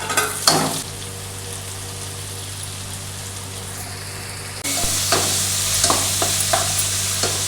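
Three onions are added to hot oil with garlic in a pan for a Kundapura-style egg palya, and the sizzle jumps suddenly louder partway through, with close clinking stirs over a continuous frying hiss.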